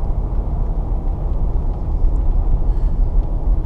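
A GMC Suburban truck engine runs smoothly at a steady idle, a low, even rumble that sits close and fills the sound on its own with no talk.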